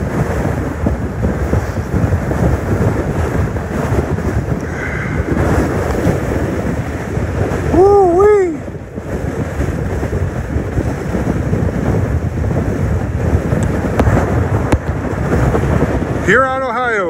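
Large waves on Lake Huron at Huron, Ohio, crash and surge loudly in strong wind, with constant roaring wind buffeting the microphone throughout and a voice speaking briefly over the noise.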